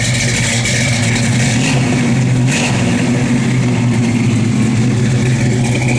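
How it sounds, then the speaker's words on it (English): A car engine revs and runs loud and close, its low drone rising and falling with the throttle and holding steady throughout with no talk over it. "That car sounds good."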